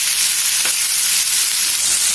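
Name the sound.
potato and onion pieces frying on high heat, stirred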